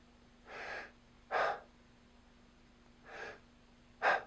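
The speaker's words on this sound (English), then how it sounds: "It's a shortened exhalation with a kind of a desperate inhalation. It's called air hunger." A person demonstrates air hunger breathing, alternating short exhalations with quick, desperate gasping inhalations; four close, distinct breaths in two pairs, separated by quiet pauses.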